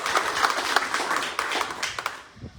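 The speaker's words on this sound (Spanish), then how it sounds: "Un aplauso para ella" Applause from an audience at a book presentation in Mexico, a dense wash of clapping hands with a few sharper individual claps standing out, steady for about two seconds before tailing off.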